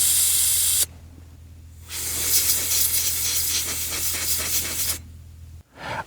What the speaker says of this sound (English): And compressed air can help too.